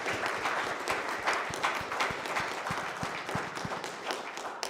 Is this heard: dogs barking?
no